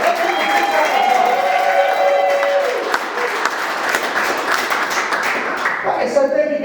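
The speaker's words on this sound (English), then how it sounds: "Let's give it a big round of applause." Comedy club crowd claps and cheers loudly for an introduced comedian, a full wave of applause with whoops that holds steady, then thins toward the end as a voice begins speaking.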